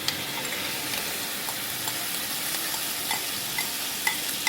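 Mutton brain masala fries in oil in a frying pan while being stirred, a steady close sizzle with small scraping ticks from the spoon running throughout, no talking.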